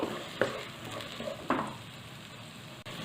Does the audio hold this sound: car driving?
no